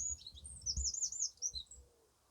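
Small bird chirping and tweeting in a quick, high twittering run, fairly faint against a low background rumble, with no voices.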